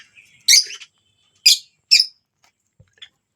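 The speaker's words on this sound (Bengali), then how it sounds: "এই ছিল আমাদের পাখিগুলো, সব বসে আছে।" Caged budgerigars and pigeons at a bird sale give a few short, bright chirps spaced apart against near silence, with one faint softer call at the end.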